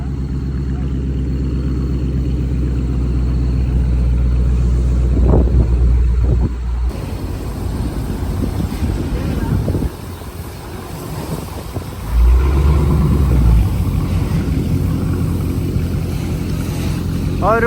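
A Dodge Challenger 6.4 Scat Pack with the 392 engine rumbles loudly and deeply up close, the low throb shifting in level as it idles and revs, with a voice briefly talking over it.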